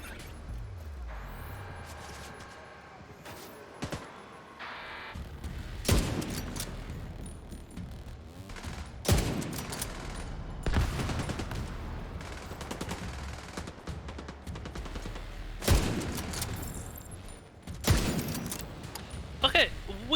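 Rapid bursts of Vector submachine gun fire ring out in The Division 2, sharp crackling volleys repeating across the scene amid game explosions and ambience, with a player talking over the action.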